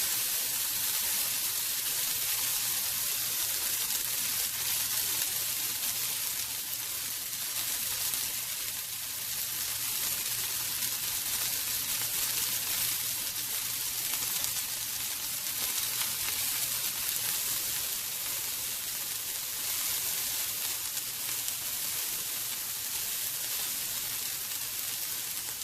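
Salmon pan-searing in a hot pan gives off a continuous bright, crackling sizzle, steady and even in loudness throughout, with no voices.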